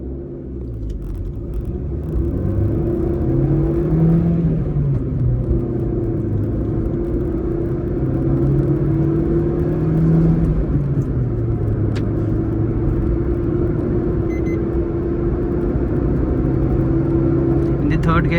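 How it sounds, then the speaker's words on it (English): A 2022 Maruti Suzuki Swift VXI engine revs in first gear while driving. Its steady droning rumble rises and falls in pitch with the revs, heard from inside the cabin. "Putting into first gear, revving the motor. It revs all the way to 4000 RPM."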